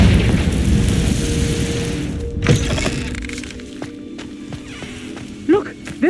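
Confringo spell blast in the Hogwarts Legacy video game: a single short boom bursts out of a dense rumbling wash, followed by quieter game ambience with voice-like tones near the end.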